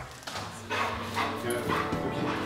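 A police search dog training in a prison setting lets out a few yips and short barks, fairly close, while someone speaks over them.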